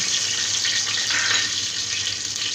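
Whole dried chilies, bay leaves and whole spices hitting hot oil in a pan for a beef and potato curry, a steady loud close sizzle with no talking.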